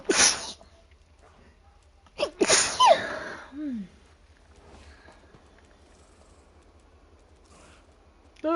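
A sharp, close sneeze bursts out at the start, followed by a second louder sneeze about two seconds later, then quiet room tone with a faint sound at the end.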